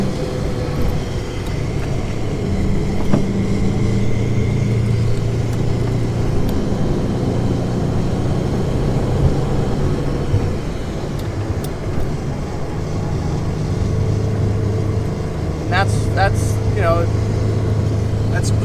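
A Porsche 912 engine drones steadily from inside the car on a mountain road with the windows down, a continuous loud rumble with wind throughout and a few brief high squeaks near the end.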